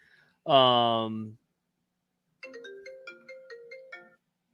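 Smartphone ringtone going off during a sports betting discussion, a short melodic series of about six electronic notes following a brief spoken exclamation, heard clearly in an otherwise quiet room.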